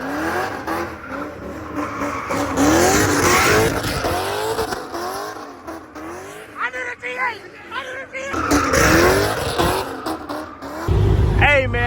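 Cars doing burnouts and skids at a street takeover, engines revving and tires squealing loudly and continuously, with a crowd's babble and voices talking throughout.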